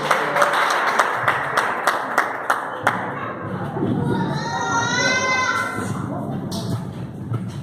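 A church congregation claps in rhythm, steady close hand claps at first, then merging into cheering voices and excited crowd noise as people call out.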